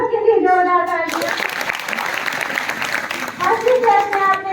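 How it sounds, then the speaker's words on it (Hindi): A group bursts into applause at a school, with a brief patch of clapping framed by a voice speaking just before and after. "सबके लिए जोरदार तालियां"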